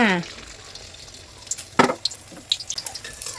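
Beaten eggs hit hot oil in a pan over high heat, frying into a fluffy Thai-style omelette. A brief voice opens, then sharp crackles and pops break out, close and fairly loud.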